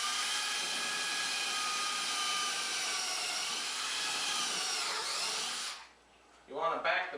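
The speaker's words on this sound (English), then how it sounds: "I'm going to take the brad point bit and just kind of center it right in the arm support and drill a hole" A drill with a brad point bit bores into a wooden Adirondack chair arm support with a sustained whining whir that winds down near the end, followed by a brief spoken voice.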